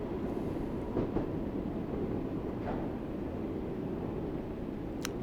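A passenger train in Train Sim World 4 on the Isle of Wight line near Ryde St John's Road slows under braking, giving a steady low rumble with faint wheel clicks and a brief squeal near the end.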